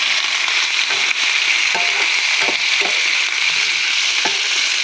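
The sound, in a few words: chicken gizzards being sautéed in a pan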